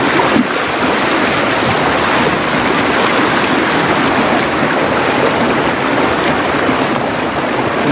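The Umanod River flows over rocks in a shallow, loud and constant rush of water close by, with no voices.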